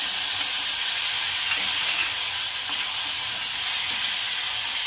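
Tomatoes added to a pan of mixed vegetables frying in spices for a dry Maharashtrian mix veg sabzi give a steady, loud, broadband sizzle and hiss throughout, with no talking.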